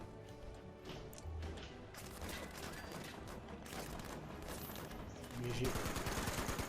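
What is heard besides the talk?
gunfire in the video game Fallout 76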